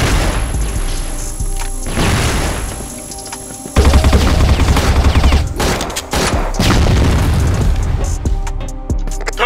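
Grenade blasts and gunfire in the CrossFire shooter game, with loud, sudden booms amid rapid bursts of shots and a dense, chaotic battle din, with no talking.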